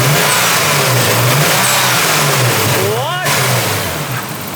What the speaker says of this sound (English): Sounds like maybe it's running on 5 cylinders.